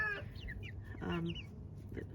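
Black Australorp and blue-laced Wyandotte hens in a chicken tractor give soft, close clucks and short squawks, with quiet background noise between calls.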